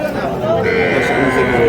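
A young Sahiwal calf at a cattle market calls out in a drawn, bleating low moo amid steady crowd chatter and bargaining voices.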